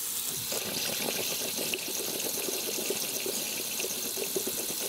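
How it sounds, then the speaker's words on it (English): Hot water from a kitchen faucet streams into a sink drain with a garbage disposal, a steady, close splashing rush that continues without a break. "you're gonna wanna run some hot water, probably about for 5 minutes or so"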